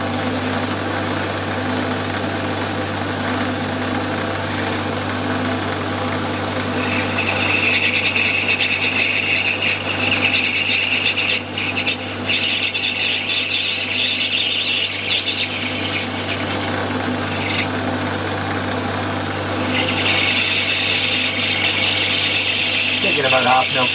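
Metal lathe taking light half-millimetre skimming cuts in a home workshop, a steady motor hum with a high tonal squeal rising during the cut, continuous and close, with someone talking over it.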